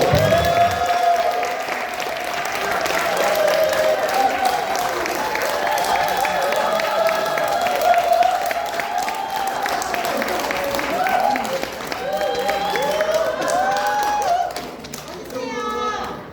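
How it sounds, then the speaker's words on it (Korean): Sustained audience applause at an office opening ceremony, filling the room for about fifteen seconds and mixed with crowd murmur and children's voices before tapering off. "큰 박수로."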